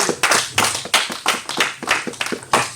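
A church congregation claps in steady rhythmic unison during a French-language service, about a dozen crisp, loud hand-claps in a row with no talk over them.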